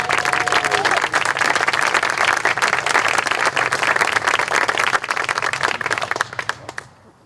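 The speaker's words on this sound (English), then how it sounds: "Give yourselves a round of applause." An outdoor crowd at a music center groundbreaking ceremony claps in a steady burst of applause that fades out at the end.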